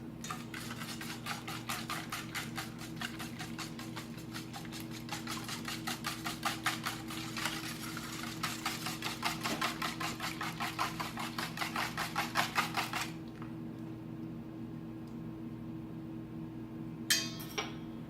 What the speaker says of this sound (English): Now we whisk.